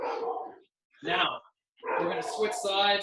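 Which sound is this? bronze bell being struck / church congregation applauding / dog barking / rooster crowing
dog barking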